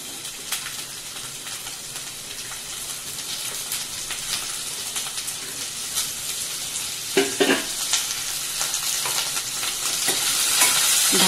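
Potatoes, carrots and capsicum with cumin fry in oil for an aloo matar bhaji, giving a continuous close sizzle that grows slightly louder over time, with occasional stirring clatter.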